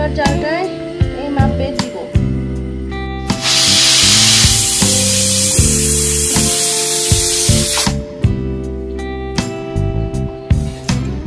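A pressure cooker cooking lentils vents steam in one loud, sustained hiss lasting several seconds, with the surrounding kitchen sounds before and after.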